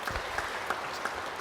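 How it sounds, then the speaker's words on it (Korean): A church congregation applauding during a sermon, steady dense clapping from a large indoor crowd with no voices over it. "박수 한번 쳐주시면 고맙겠어요."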